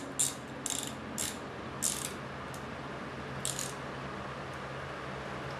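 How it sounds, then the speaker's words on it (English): Ratchet wrench snugging down a 10mm bolt while wiring a Nissan 240SX SR20DET swap, a few short bursts of clicking pawl spaced a second or so apart, close and fairly quiet. "Go ahead and snug the bolt down."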